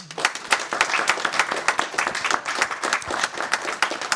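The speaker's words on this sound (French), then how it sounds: "on vous applaudit." Audience applause at a French parish talent gathering, a few seconds of steady mixed hand clapping from a small crowd indoors, dense and even throughout.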